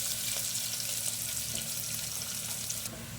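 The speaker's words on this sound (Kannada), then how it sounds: "ಈರುಳ್ಳಿ, ಕರಿಬೇವು ಸೇರಿಸ್ಕೊಂಡು ಆಯಿಲಲ್ಲಿ ಸ್ವಲ್ಪ ಚೆನ್ನಾಗಿ ಫ್ರೈ ಮಾಡಬೇಕು." Onion and curry leaves frying in oil along with garlic and dried red chillies for a lentil sambar, giving a steady, even hiss of sizzling throughout with no talking.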